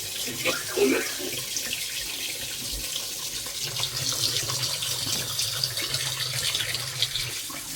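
Hot water runs steadily from a tap after a boiler repair, a continuous hissing splash that holds for several seconds with faint background noise.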